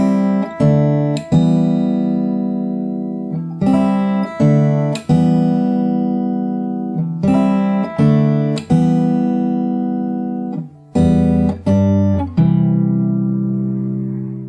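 A solo fingerstyle acoustic guitar plays the intro of a song, with plucked chord patterns in steady arpeggiated groups, close and clean, the last chord left ringing out, with no voices.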